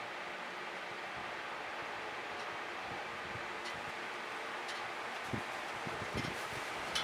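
Wind blowing outdoors makes a steady, soft rushing noise with faint rustling and a few light knocks. No one speaks.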